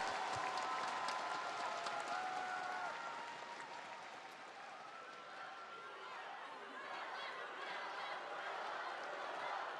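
Applause and cheering fill a crowded watch party for the MSI 2025 League of Legends grand final between GenG and T1, a dense wash of clapping that dips briefly midway and swells again, with voices talking over it.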